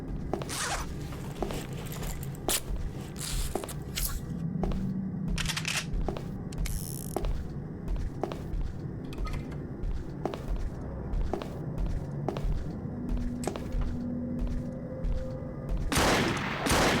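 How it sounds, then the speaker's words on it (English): Heavy footsteps crunch and thud steadily through a dense, loud ambient bed in the horror shooter game Blighten, with sharp clacking transients and low droning noise throughout. "Yeah, the footstep ambiance is very loud."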